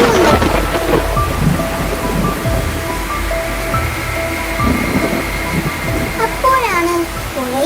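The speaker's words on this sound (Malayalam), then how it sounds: "ഇടിയും മിന്നലും ഉണ്ട്." Heavy rain falls with rumbling thunder in a night storm near a river, a loud continuous wash with deep rolling booms underneath, set within an animated children's story with music tones.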